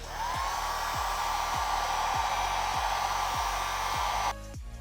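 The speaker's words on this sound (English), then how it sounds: "I'm gonna apply a little bit of heat with a heat gun" A heat gun warms freshly applied dirt bike graphics, giving a steady loud blowing whoosh with a faint rising whine that cuts off near the end, with no talking.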